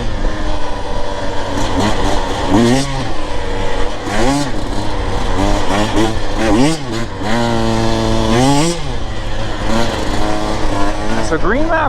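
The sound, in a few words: Husqvarna TE 150 TBI dirt bike engine while riding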